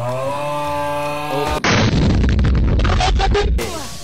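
A steady synthetic tone cuts off as a loud explosion in The Outlast Trials bursts in with rumbling, crackling debris before the tone returns.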